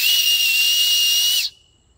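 An acorn shell cupped in the hands and blown into gives a loud, piercing, steady whistle for about one and a half seconds before cutting off abruptly into quiet.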